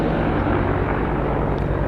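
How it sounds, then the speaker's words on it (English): Police helicopter flying overhead, a steady loud rotor drone with a pulsing low thump filling the whole brief moment. "I'm being chased around by a police helicopter at the moment."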